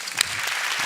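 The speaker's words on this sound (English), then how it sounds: "Let's give a big round of applause for Brian Greene and Richard Dawkins" An audience claps in a brief, dense burst of applause at a live science talk with Brian Greene and Richard Dawkins.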